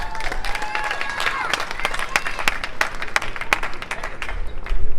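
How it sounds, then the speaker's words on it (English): Crowd at a boxing press conference claps in scattered, uneven bursts, individual sharp claps standing out over a livelier background of voices and a few whoops. "Another round of applause for Joe"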